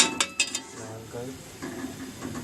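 Vermicelli kheer is stirred in a pot over low heat, with a few metal clinks and scrapes near the start that settle into softer stirring, while someone talks throughout.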